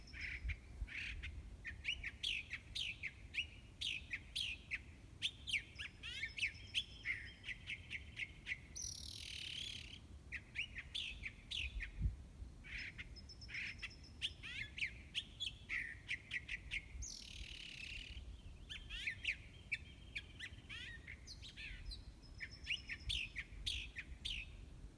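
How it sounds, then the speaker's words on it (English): A male thrasher calls to a female from a tree during an outdoor morning walk. Repeated bright, varied chirps and phrases come in bursts over a faint bed of insect buzz, moderately distant, with no talking. "So that's the thrasher, and he's out here"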